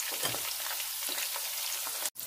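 Green chillies fry in hot oil, a close, steady crackling sizzle with faint stirring, ending in a sudden brief break.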